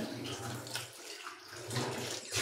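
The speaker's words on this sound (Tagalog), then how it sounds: "Si Jackie Bird naghugas ng plato." Dishes washed under running water from a tap, a close, steady splashing rush that dips briefly midway and then swells again, with faint voices in the background.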